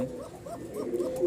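A male Maxi pigeon coos in a soft, low, repeated warble, several rolling calls close by and growing slightly louder toward the end.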